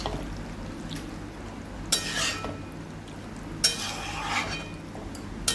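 Boiled bottle gourd is stirred into mutton gravy in a pot, giving two short bursts of scraping and wet stirring against a quiet background hum, with no one talking.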